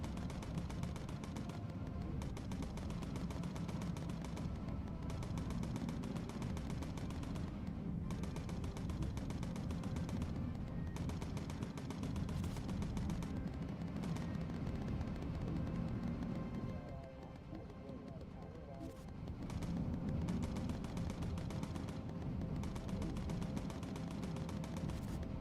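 Rapid machine-gun fire in the World War II bomber game Bomber Crew, a steady, dense stream of bursts shooting down enemy planes that continues for the whole stretch with only brief lulls.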